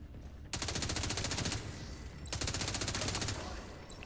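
Rapid automatic gunfire in the video game The Division 2, two loud sustained bursts of evenly spaced shots, each about a second long, with a short pause between them.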